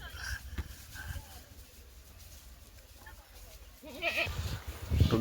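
Goats bleat near a village lakeside, with wavering calls rising toward the end over faint background noise and a bit of distant voice.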